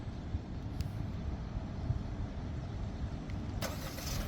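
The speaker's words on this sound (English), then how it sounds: "I'm going to go ahead and start the vehicle remotely." A 2027 Kia Telluride X-Pro SX Prestige, started by remote start, gives a steady low engine rumble with broadband road-like noise throughout. It stays moderately loud and unbroken, with a brighter rise in noise near the end.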